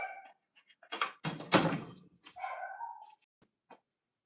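A loud dog barking indoors in short bursts, a few sharp barks and whining yelps separated by pauses, alone and close by.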